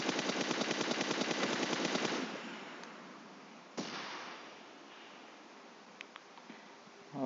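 Rapid automatic gunfire in PUBG Mobile, a fast rattling burst for about two seconds, followed by a single sharp shot and a few faint distant pops.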